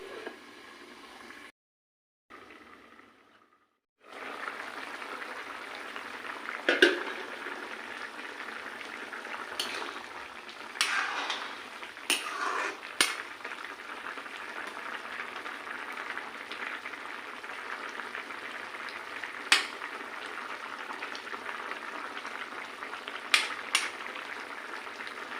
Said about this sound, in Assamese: এইখিনি এতিয়া ভালদৰে উতলিবলৈ মই আকৌ ঢাকনি লগাই দিম অলপ সময়ৰ কাৰণে।